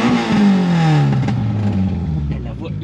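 A Renault Clio fitted with a Group N exhaust line revs loudly up close, its pitch falling as the engine winds down in a raspy, harmonic-rich drone, with voices talking over it.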